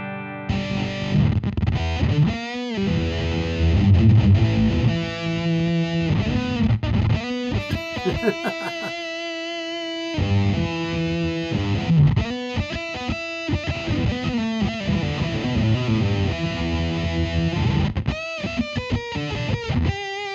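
Heavily distorted electric guitar through a Fender amp plays loud, chugging riffs with brief pauses and sustained chords, no voices, continuous and close.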